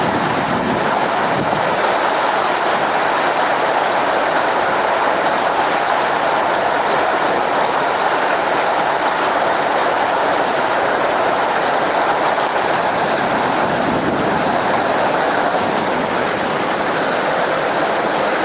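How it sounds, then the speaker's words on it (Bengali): A sudden storm in Sylhet with wind and rain sends up a loud, unbroken rushing roar that stays steady and dense for the whole stretch, with no voices. "তো সেই ঝড় বৃষ্টিটা আমরা আপনাদের কাছে তুলে দিচ্ছি"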